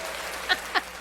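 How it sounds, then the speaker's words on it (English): A few quick hand claps, two sharp bursts spaced apart, fairly faint over a quiet room background. "Why are you clapping for curses?"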